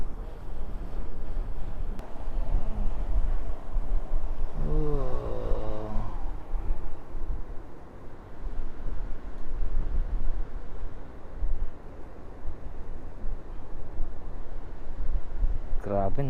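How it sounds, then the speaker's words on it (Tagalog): Heavy, continuous wind roar buffeting the microphone, loud low rumble throughout, with a brief tonal hum from a flying drone in the middle. "Grabe ang lakas ng hangin."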